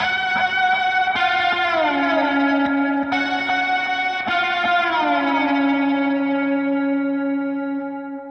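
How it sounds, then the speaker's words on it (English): Sustained electric guitar notes through a Line 6 Helix drenched in reverb and echoing delay, bending and ringing out into a long, shimmering fade. "adding a ton of reverb and delay helps this guitar part really come to life."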